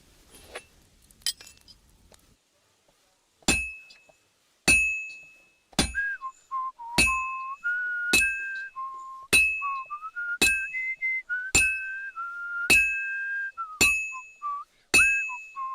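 Bells ring in the medieval video game Kingdom Come: Deliverance 2, a clear series of about a dozen evenly spaced metallic chimes with ringing overtones, each struck alone and decaying before the next.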